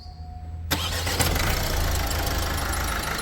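An Opel Astra J 1.6 CDTi 136 hp diesel engine cranks and catches after a moment of quiet, then settles into a steady, loud, rumbling idle.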